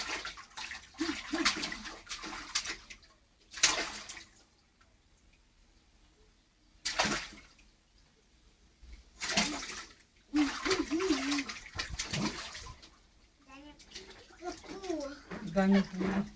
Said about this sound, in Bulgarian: А Дани като пляска във водата